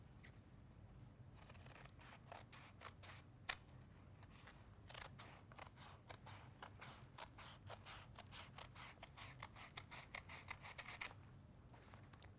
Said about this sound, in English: And then we can cut off the excess over here.